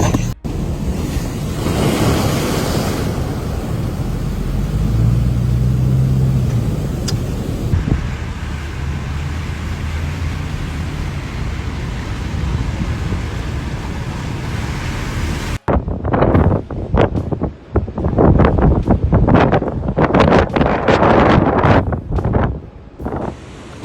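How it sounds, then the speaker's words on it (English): Storm-driven waves crash against the Maine coastline during a powerful storm with heavy rain and flooding, a loud continuous roar of surf with heavy wind buffeting the microphone, followed by choppier gusting bursts. "A powerful storm system brought large waves, heavy rain, and flooding to the Maine coastline on Wednesday."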